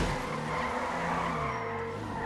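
Car tires skid and squeal during a police turn in GTA 5, a continuous close screech over a droning engine, lasting the whole moment without speech.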